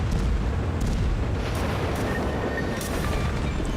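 Ship guns fire in a naval battle video game, a loud continuous roar of booming cannon blasts and rumbling impacts that layer into a dense, unbroken barrage with a few sharper cracks, with no talking.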